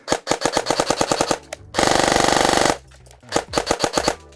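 Gate Titan-equipped airsoft rifle firing BBs full auto at about 25 rounds a second, indoors: a loud, close, rapid buzzing burst of about a second, framed by quicker clattering semi-auto-like shots before and after.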